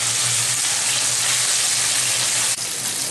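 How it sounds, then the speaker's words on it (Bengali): Hilsa fish frying in oil in a pan, Bengali style, giving a steady, loud, close hiss and crackle of sizzling throughout, with no voices. "আমি খুব বেশি কড়া করে ভাজবো না ইলিশ মাছটা"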